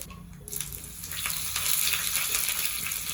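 Spices for a coconut chutney tempering, with asafoetida and curry leaves, crackle and splutter in hot oil, a dense close sizzle that swells after the first half second and stays loud and steady.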